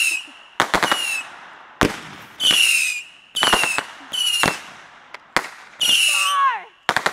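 Fireworks go off outdoors with a puppy nearby. Several loud, sharp bursts crackle in quick succession, with whistling, screeching rockets rising between the bangs and faint squealing at one point.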